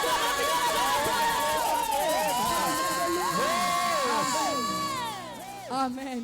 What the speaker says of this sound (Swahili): Wapi shangwe na vigelegele kwa Yesu?